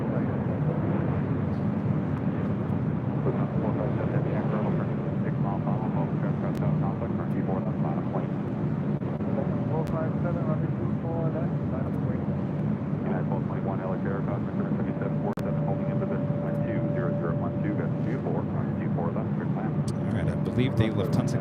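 A Lufthansa Boeing 747 rolls for departure at LAX, its broad steady engine roar continuous and fairly distant beneath ongoing conversation.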